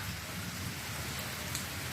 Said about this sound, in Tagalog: dahil lakas ng ulan oh